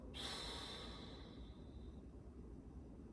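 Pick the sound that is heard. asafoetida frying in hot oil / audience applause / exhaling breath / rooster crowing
exhaling breath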